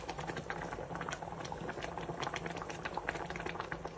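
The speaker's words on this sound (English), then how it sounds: "put that on the stove and bring that to the boil" A pot of water holding Seville orange peels boils on a stove, giving a steady, soft bubbling and popping throughout with no voices.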